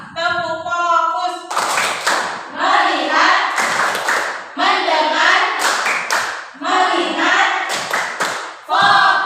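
Children in a classroom follow a teacher through the tepuk fokus clapping game, chanting short words in unison between crisp, rhythmic bursts of group hand claps that recur in a regular pattern.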